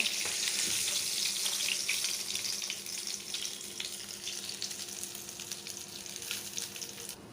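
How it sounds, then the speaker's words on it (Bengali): Chopped onion and garlic frying in oil give a continuous close sizzle that starts loud and gradually settles slightly quieter, with scattered crackles and pops throughout. "এখানে আমি কাটা পেঁয়াজ এবং কয়েকটা টুকরা রসুন কুচি দিয়ে দিলাম। এখন এটা ভালো করে ভেজে নিব।"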